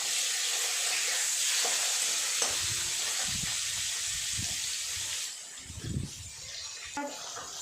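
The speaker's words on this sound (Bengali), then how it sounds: "মাছটা আমার এই পাটটাও হয়ে গেছে, ওটা উল্টে ভেজে নেব।" Rohu fish pieces fry in hot oil, giving off a steady close sizzle with soft low thumps and clatter as they are moved around the pan.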